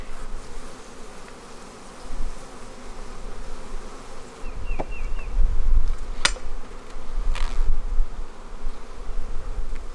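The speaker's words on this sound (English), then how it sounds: "there's quite a few bees in here now" Honey bees buzzing thickly in an opened beehive during a hive inspection, a dense continuous drone that swells and fades, with a few sharp knocks partway through and no talking.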